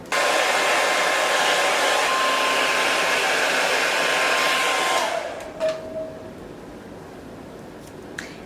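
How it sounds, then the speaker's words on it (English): A hair dryer blowing hair straight and sleek during an at-home blowout, running as a loud, steady whoosh for about five seconds before it cuts off, leaving faint rustling and handling. "I'm going to blow dry it out this way, just so that I can really get this hair as sleek as possible."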